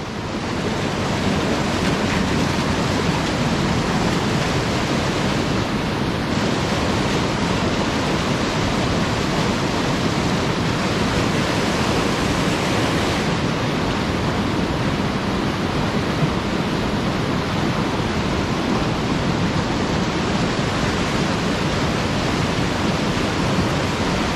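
The Weru River in Kilimanjaro National Park rushes past in a loud, constant roar of flowing water. The steady wash lasts the full length with some wind buffeting and no speech.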